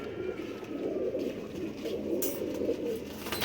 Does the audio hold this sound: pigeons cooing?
yes